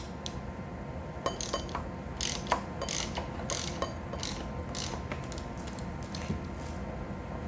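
Ratcheting and clicking metal as a bolt is loosened on the handlebar of a Mega Moto 212 minibike, with irregular close, fairly faint clicks over steady background hiss.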